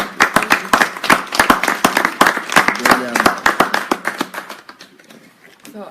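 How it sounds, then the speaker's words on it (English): Hands clapping in applause for a speaker at a leadership talk, loud and close with distinct sharp claps in a fairly quick rhythm, thinning and fading out toward the end. "applause"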